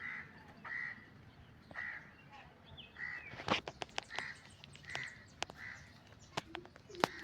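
Myna birds give repeated harsh calls at fairly regular intervals, moderately distant, with sharp clicks and knocks scattered between them in a quiet outdoor setting.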